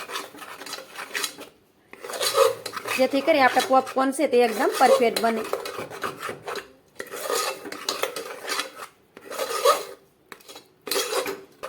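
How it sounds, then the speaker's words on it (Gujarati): Raw sago pearls (sabudana) are stirred in a pan, giving a close, gritty rasping and scraping in repeated strokes, with a person talking over much of it. "તો સાબુદાણાને આ રીતે થોડી વાર મિક્સ કરી દેવાના"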